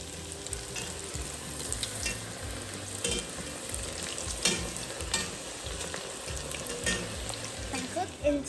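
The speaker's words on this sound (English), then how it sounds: "Get your second round of cooking your fries." Poutine fries on their second round in hot oil sizzle and bubble in a steady close crackle, with occasional stirring scrapes and a faint voice underneath at moments.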